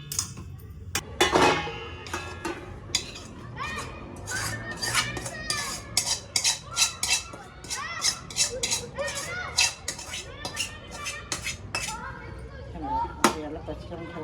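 Fried coriander patodi being moved from a hot pot onto a plate, with repeated clinks and scrapes of a utensil against metal cookware in an irregular rhythm, close by under a quiet voice.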